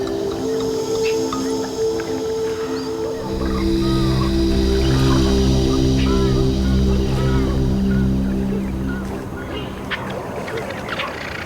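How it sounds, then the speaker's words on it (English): Red-knobbed coots calling in the wild, a steady chorus of honking and squeaky notes layered with low droning tones, fairly close and continuous, with rustling outdoor ambience. "The red-knobbed coots."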